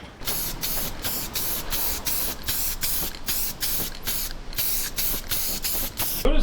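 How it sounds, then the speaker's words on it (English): White spray paint hissing from an aerosol can onto a pickup truck bed, a steady close spray broken into a string of short bursts with brief pauses between them. "a little white spray paint, good enough."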